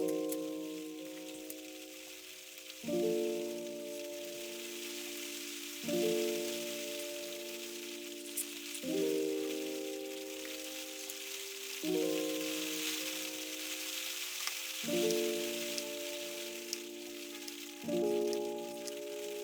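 Steady rain hisses in the background as a continuous soft wash, under a repeating, gentle musical phrase, with no talking.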